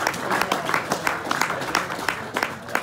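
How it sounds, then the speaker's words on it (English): Applause from a sports club reunion audience, close and steady with distinct individual claps in an irregular rhythm throughout. "Give him a big round of applause and welcome him to the stage."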